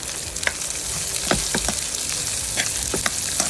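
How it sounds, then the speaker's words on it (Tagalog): Garlic and onion sautéing in a pan for kangkong adobo, a steady close sizzle with intermittent sharp stirring clicks and scrapes, no talk. "tutuloy natin ang bawang at ang sibuyas"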